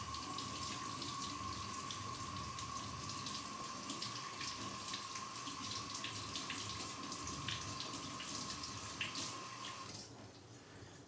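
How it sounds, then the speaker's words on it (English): Cold tap water running steadily over wild onion bulbs in a sink, a continuous close splashing stream with small shifts as the bulbs are rinsed, cutting off near the end. "So you want to wash them under cold running water."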